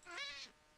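A cat gives a single short, fairly quiet meow, close by, with no talking over it.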